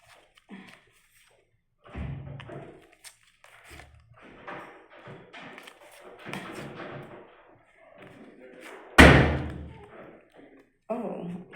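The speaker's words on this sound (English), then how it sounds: "Somebody opened the door on the other side very violently." A door on the far side of a room flung open violently, one loud abrupt slam standing out sharply amid scattered softer knocks and a person talking nearby.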